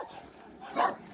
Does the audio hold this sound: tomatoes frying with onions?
no